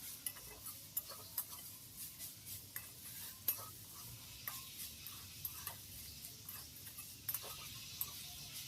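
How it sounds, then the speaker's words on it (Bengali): Fried peanuts go into a pot of chana saag and are stirred through, producing faint scraping and clinking of a spoon against the pan in irregular taps over a soft background hiss. "দিয়ে দিচ্ছি বাদাম ভাজাগুলো।"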